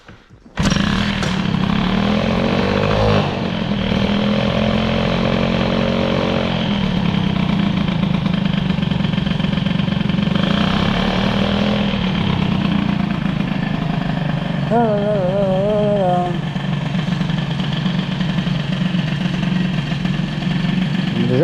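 A Peugeot 103 Hybride moped fitted with an Airsal 65 air-cooled kit idles steadily and loudly up close, holding a constant running note throughout, while someone talks over it.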